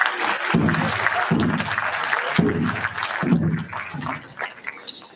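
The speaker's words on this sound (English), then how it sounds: "So give them another round, of applause." An audience at the 2023 White Earth State of the Nation address applauds for tribal employees, a steady broadband clatter of many hands with deeper voice-like bursts pulsing through it, fading slightly at the end.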